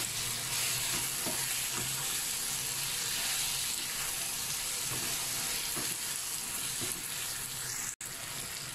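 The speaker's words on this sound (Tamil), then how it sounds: "சிக்கன் எல்லாமே ஓரளவுக்கு நல்லா வதங்கிருச்சு." Chicken pieces with turmeric and salt fry for Chettinad chicken gravy, giving a continuous close sizzle with soft stirring scrapes and a brief cut near the end.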